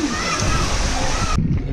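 Water splashes and sloshes in a broadband wash that cuts off sharply near the end, with a voice and other talk mixed underneath.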